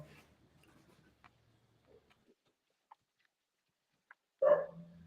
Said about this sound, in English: My dog is out here playing with the chickens.